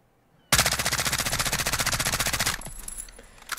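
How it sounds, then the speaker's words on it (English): A full-auto MCX rifle in Call of Duty Modern Warfare fires one loud, rapid sustained burst of about two seconds with an even rattling rhythm, then cuts off to a faint ringing tail and quiet game ambience. "we're going to keep it on full auto, and we're just going to let this thing rip and see what the recoil looks like"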